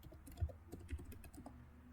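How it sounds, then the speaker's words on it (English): Soft typing on a computer keyboard, a short run of light, irregular key taps at close range in a quiet room. "I will just type client onboarding"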